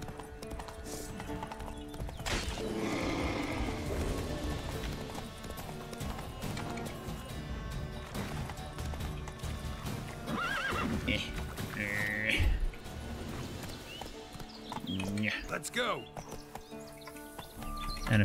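Horse neighing and hooves clip-clopping while riding in The Witcher 3, a whinny followed by rhythmic galloping hoofbeats amid game music and ambience, with a person talking over much of it.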